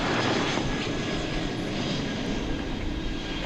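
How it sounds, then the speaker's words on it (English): An MD-11 jet at DFW Airport at night gives a steady, fairly distant roar that stays broad and even throughout. "MD-11. There it is."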